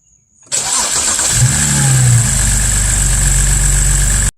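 A BMW engine cranks and fires up with a sudden loud start, the starter whirring briefly before the motor settles into a steady close idle that runs until it cuts off.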